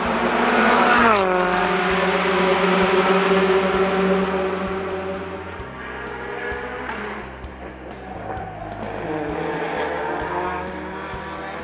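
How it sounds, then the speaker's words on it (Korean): Race cars roar around a racetrack, engines wailing loud and close with rising and falling pitch, one car sweeping past early on before a steady layered engine drone continues throughout. "레이스카들의 이런 굉음을 들으면서"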